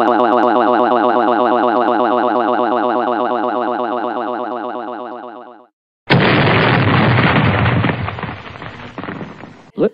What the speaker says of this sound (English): do you see that fireworks?